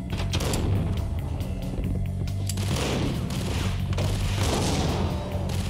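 Rapid bursts of gunfire crackle and boom in quick succession, dense and loud, in a firefight in the video game Max Payne.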